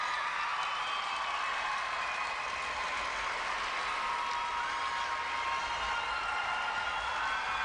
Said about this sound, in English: The crowd is loud.